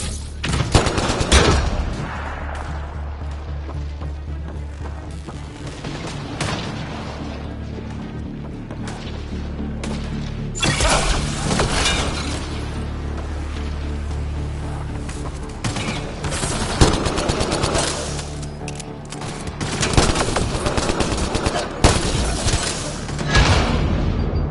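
Enemy gunfire in a Mass Effect 3 firefight: loud, dense bursts of rapid shots and heavy impacts rolling through a continuous battle din, with several sharp peaks and no talking over it.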